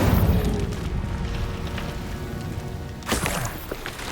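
The Incendio fire spell is cast in the video game Hogwarts Legacy. A loud, rumbling fiery roar fills the opening, then eases, and a second whooshing burst of flame erupts about three seconds in. No one speaks.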